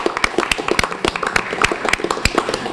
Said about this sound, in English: give Jacob Miller a round of applause